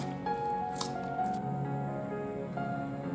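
Kosambari salad is mixed by hand in a bowl, giving soft, wet squishing and dripping sounds. They are quiet and close, with no talking.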